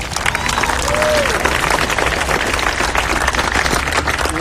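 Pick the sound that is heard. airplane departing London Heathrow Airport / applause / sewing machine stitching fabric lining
applause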